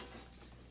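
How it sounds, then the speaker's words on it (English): A door lock clicks and ratchets as it is unlocked in an old Western drama, a short mechanical rattle heard close, faint, with no talking. "Wait till I get this door unlocked."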